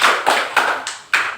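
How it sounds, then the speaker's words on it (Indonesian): A small group claps hands together in a classroom, a few sharp separate bursts of applause fading between each, close and loud with no talk. "Tepuk tangan untuk kelompok terakhir."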